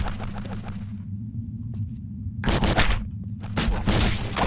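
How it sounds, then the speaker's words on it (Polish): Rapid bursts of gunfire crackle over a steady low rumble, pausing briefly before two more loud volleys erupt, like automatic weapons in the video game Postal 2: Paradise Lost. "Zobacz, jak strzelają!"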